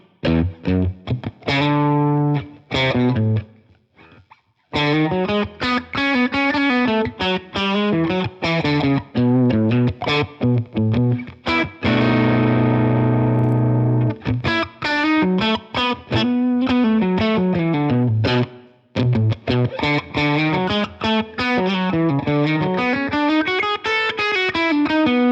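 Electric guitar with a bright, sparkling country twang tone from a Telecaster through an enhancer effect on a Fractal unit, playing melodic phrases, loud and upfront, with brief pauses between runs.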